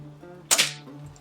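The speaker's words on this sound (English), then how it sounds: "This has always been a fun air gun to shoot. And that moderator makes it really backyard friendly." A Crosman air gun fitted with a moderator fires a single short, muffled crack, close by and brief, against a quiet background hum.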